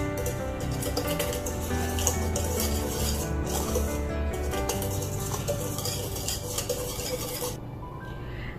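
A utensil stirs fine sugar and salt together in a bowl, giving steady soft scraping and clinking at close range under a faint tonal background hum.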